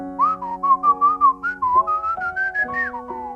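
A person whistles a clear, wavering melody of several connected notes, close and alone, with a steady tone held underneath.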